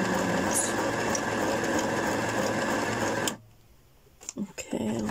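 A sewing machine stitching fabric pages for a tag book runs at slow speed doing a back stitch, humming steadily up close, then stops abruptly, leaving a few small clicks and handling sounds.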